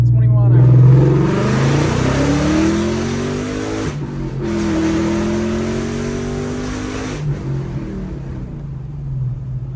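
A car engine revs hard through its exhaust, with a loud rising roar and a deep rumble. It drops off briefly, then climbs again in a second rev and settles back to a rough idle, close by.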